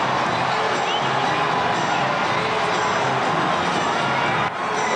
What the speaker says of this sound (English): This is the biggest New Year's Eve crowd I've ever seen in the almost 30 years I've been hanging around here.